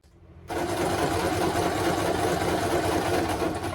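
Sewing machine stitching together the edges of teddy bear fabric, starting after a brief quiet moment into a loud, steady, close mechanical whir that runs continuously without voices.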